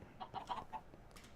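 Chickens in the Minecraft Agrarian Skies modpack cluck in a handful of short, soft, quick calls from a game animal pen, quiet and alone.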